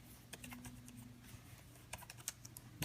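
Soft, irregular clicking of keys typed on a ZAGG Slim Book keyboard case for an iPad Air 2, quiet and close, with brief pauses between bursts of taps.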